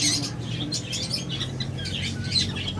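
A flock of pet lovebirds and cockatiels chirps and tweets without pause, with many overlapping bright calls and squawks over a steady low hum. No one speaks.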